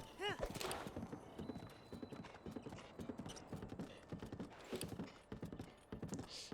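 Rhythmic horse hooves clip-clop steadily at a trot in the video game The Legend of Zelda: Breath of the Wild, while a person talks and exclaims over the clatter throughout.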